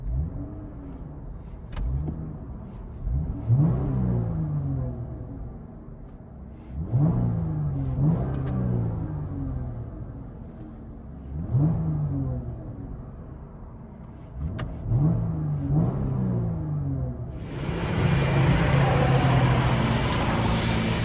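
Inside the cabin of a 2012 Dodge Challenger 3.6L V6 with Flowmaster Outlaws exhaust, the engine is revved in about five muffled, rising pulls spaced a few seconds apart, ending in a broad steady whoosh.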